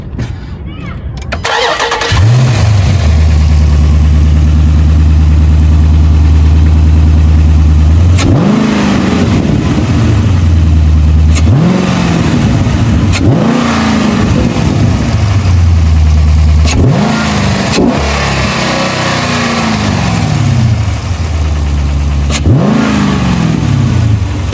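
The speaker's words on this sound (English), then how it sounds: "I'm about to turn on the car" A Dodge Challenger 392 Scat Pack V8 fitted with a K&N cold air intake cranks and fires up, then settles into a deep idle broken by about five sharp, throaty revs that fall back each time, loud and close.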